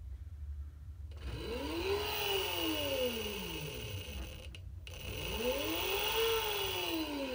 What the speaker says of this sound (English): I'm not pressing the pedal anymore, and the motor was still rotating